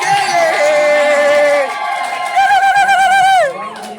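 Wedding guests ululate at a marriage celebration, loud high warbling trills that rise and waver over a crowd murmur, with several voices overlapping close by before the trilling fades out.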